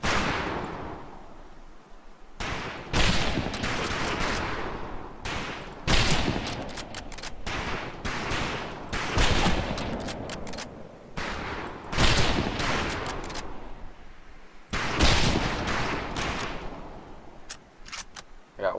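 Rifle fire at a Medal of Honor: Pacific Assault boot camp range, with sharp, loud shots cracking in irregular bursts and single reports and short pauses between volleys.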